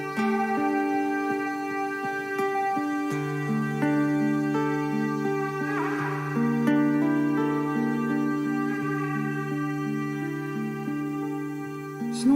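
A ram's horn blown in a long wailing call, sustained reedy tones that hold and shift between pitches for several seconds with no voices.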